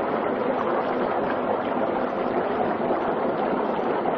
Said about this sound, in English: we're gonna grab all this dry ice, about 2 pounds, and put it inside of the water